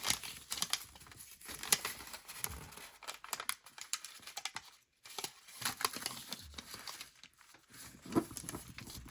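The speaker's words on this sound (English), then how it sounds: "we are going to fold it over this way" Stiff piano roll paper crinkling and crackling close up as it is folded over, in irregular bursts of rustle with a brief pause in the middle.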